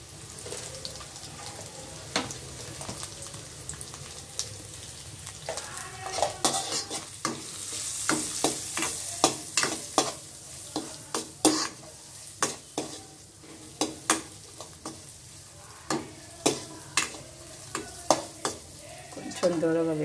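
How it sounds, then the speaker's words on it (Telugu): Onions and green chillies fry in a pan with turmeric and salt, sizzling softly under repeated sharp scraping strokes of a stirring spoon, close and without talk. "కొంచెం దూరగా వేగనిద్దాం"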